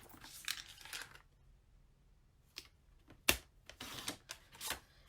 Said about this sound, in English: I'm using the new trimmer